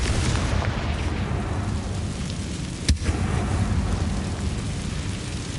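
A single sharp blast from a Confringo fire spell in Hogwarts Legacy, landing midway over a steady noisy background of rain-like ambience in a closed tomb setting.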